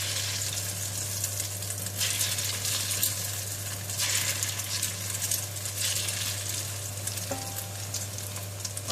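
Hot oil sizzles steadily in a pan as its heat is tested before pouring in egg for a prawn omelette, a continuous crackling hiss with a low steady hum underneath and a faint clink near the end.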